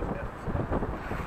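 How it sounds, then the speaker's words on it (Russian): Steady wind buffeting the microphone during a flight over the Dnieper in Kyiv, a continuous low rumble with gusting swells throughout. "там ветер так раздувает вообще"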